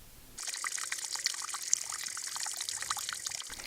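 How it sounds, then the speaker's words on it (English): Water from a solar-powered pump flows steadily into a small-scale irrigation system at a valley tank, a close, continuous pouring and trickling with no voices. "The valley tank here, attached to a solar plant system, often helps in the pumping of water used on the small-scale irrigation system."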